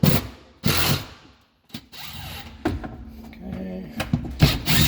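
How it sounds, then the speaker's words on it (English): A screwdriver with a Torx bit backs a screw out of a Frigidaire dishwasher in short, sharp ratcheting clicks and knocks, close and intermittent, with a person speaking in between. "So we are going to pull out this screw."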